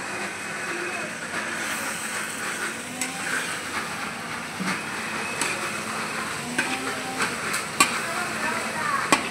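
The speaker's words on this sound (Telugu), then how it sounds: "ఇట్లా ఆయిల్లోనే రోస్ట్ చేసుకోవాలి." Tomatoes roasting in oil for chutney, a steady low sizzle with occasional stirring clatters and clicks, heard with people talking.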